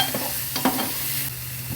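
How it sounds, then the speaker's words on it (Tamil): Fish curry masala with chilli and coriander powder being stirred in a pan, a spoon scraping through the thick sizzling mixture in a few close strokes over a steady low fry. "நல்லா கலந்துடுங்க, தனியாத்தூளோட அந்த பச்சை வாசனை போகிற வரைக்கும்."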